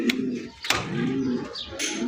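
Pigeons in a breeding loft cooing close by, a few soft throaty coos in short bursts with brief gaps between them.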